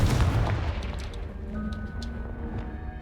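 The Confringo explosive spell goes off in the video game Hogwarts Legacy, a sharp, loud blast right at the start that trails into a fading rumble.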